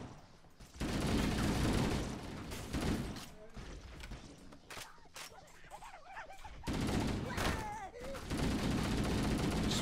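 Rifle fire in the video game Halo: Combat Evolved, with loud repeated bursts of gunshots and game sound effects filling the clip, a voice briefly speaking between them.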